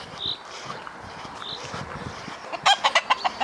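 Laying hens feeding on scattered wheat, soft low clucks and rustling pecking close by, ending in a quick series of sharp, louder squawking calls.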